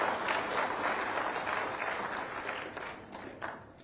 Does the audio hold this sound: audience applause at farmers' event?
yes